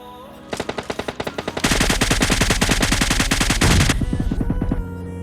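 Automatic gunfire in the PUBG battle royale game: sparse shots at first, then a dense, loud, rapid burst of machine-gun fire that runs for about two seconds before breaking back into separated shots.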